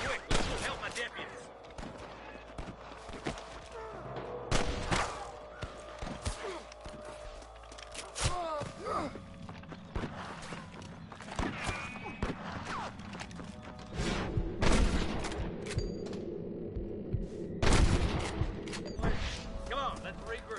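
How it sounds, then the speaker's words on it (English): Repeated gunshots in Red Dead Redemption ring out in scattered bursts over a busy backdrop of music, hoofbeats and shouting voices, loud and near throughout. "I can hear more gunshots."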